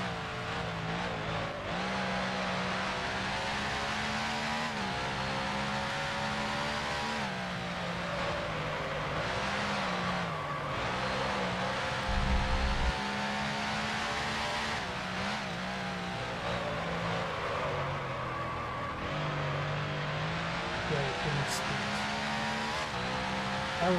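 A 1955 Lancia D50 Grand Prix car engine in the Grand Prix Legends racing game, a sustained howl rising through the revs, dropping sharply at each gearshift and climbing again, loud and continuous throughout.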